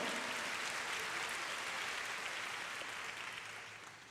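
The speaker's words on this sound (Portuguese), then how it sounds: "Você gostaria de dar um aplauso ao Senhor?" A church congregation claps in a dense, even round of applause that holds steady and then slowly fades toward the end.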